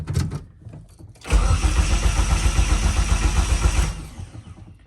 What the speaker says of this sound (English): All right, so crank without the fuel pump.